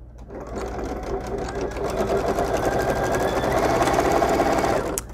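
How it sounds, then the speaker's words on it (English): A sewing machine top-stitches around a fabric picnic roll, its rapid steady needle chatter building and holding close by for about five seconds before stopping abruptly, with no talk over it. "we're just gonna top stitch all the way around our picnic roll"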